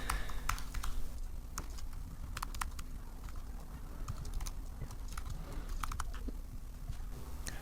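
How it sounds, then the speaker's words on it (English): A computer keyboard is typed on during data entry, with irregular quiet key clicks and taps in quick bursts over a low steady background hum, close by with no voices. "if we hit the down arrow on our keyboard, we can input that first cell and move down into the next cell"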